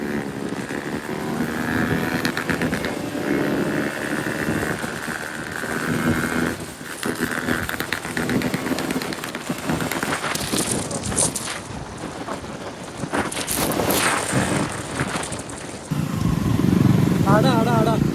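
A KTM Duke 200 motorcycle engine running among other bikes on an open road, a steady loud drone heavily buffeted by wind noise, swelling louder near the end as it passes close.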